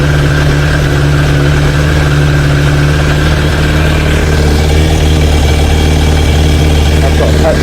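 A repaired Suzuki Bandit 600 motorcycle engine runs steadily at a loud, close idle, an even low throb held for the whole stretch with no talk over it.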